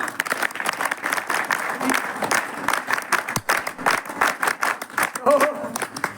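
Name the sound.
audience applause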